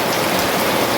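Heavy rain falls steadily during a flood, a dense, loud, even hiss of drops striking surfaces close by with no pauses.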